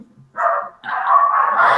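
Dogs bark nearby in a home: a short bark followed by a longer run of whiny, high yipping barks.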